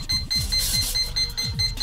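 A controller for an E-Flite Edge 540QQ 280 model aircraft gives a short series of evenly spaced high beeps while binding, mixed with close clicks and thuds from handling.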